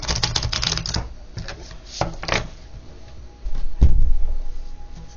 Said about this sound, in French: c'est mon fils, il recommence à taper dans les murs